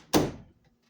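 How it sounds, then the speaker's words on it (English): A bathroom door in a suburban house swings shut with a single solid thunk, close and clear, followed by a short fading rattle and then quiet. "Let me shut the bathroom door."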